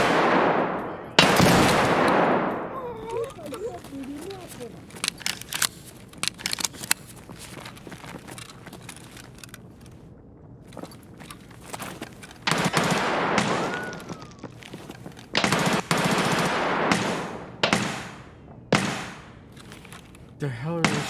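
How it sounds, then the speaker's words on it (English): Suppressed shotgun fire in a video game: several sharp, loud blasts scattered irregularly through the passage, some in quick pairs, with quieter gameplay noise and occasional talk between them. "They're shooting a suppressed shotgun."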